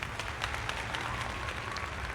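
A short burst of steady applause from a crowd, dense clapping at an even level throughout.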